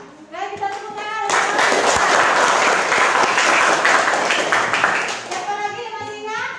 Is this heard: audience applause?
yes